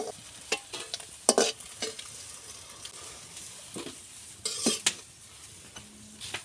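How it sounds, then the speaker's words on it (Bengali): A cooked egg omelette is lifted out of a sizzling frying pan, with soft frying hiss under several sharp scraping and clinking strokes of a utensil against the pan, close and without speech. "ডিমের অমলেট তৈরি হয়ে গেছে, এবার আমি"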